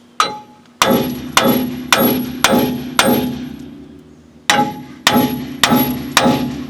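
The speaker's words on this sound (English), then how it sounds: "I'm pounding on it like crazy." A hammer pounds a stuck brake rotor on a Dodge 1500 front wheel hub, nine loud ringing metallic clangs in two rhythmic bursts, each strike followed by a short decaying ring.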